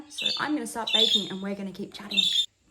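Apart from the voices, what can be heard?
pet bird squawking in the background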